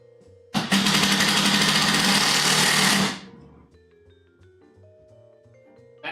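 Power drill driving a screw into lumber for a storage rack, one loud, steady buzzing whir of about two and a half seconds that stops abruptly, followed by quiet tonal background.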